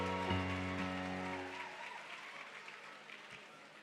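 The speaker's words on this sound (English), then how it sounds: "Let's all again give a big hand of applause" Applause from a crowd at a launch ceremony, fairly steady then slowly tapering, after a secondary school band, with a brief musical tone at the start fading out beneath the clapping.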